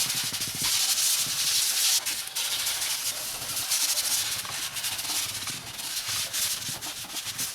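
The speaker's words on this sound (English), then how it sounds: "You want to sand it so that it's nice and rough." Steady scratchy rasping of sandpaper roughening an octagon barrel guide piece for gluing, repeated close strokes in an uneven rhythm with no talking.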